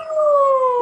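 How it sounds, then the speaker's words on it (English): A single sustained wailing siren in New York City slowly glides downward in pitch, clear and steady, heard through a window. "Does anyone hear the awesome siren outside my window?"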